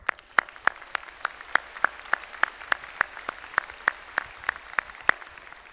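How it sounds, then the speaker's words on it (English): Audience at a 2024 graduate commencement and hooding ceremony applauding graduates, heard as sparse, evenly spaced sharp claps spread across the clip rather than a dense roar. "Please join me in applauding them."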